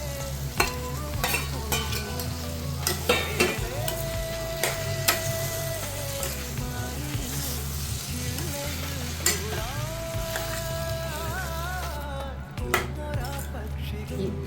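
A spoon stirs dates through something sizzling in a frying pan, with scraping and occasional clinks against the metal, close by.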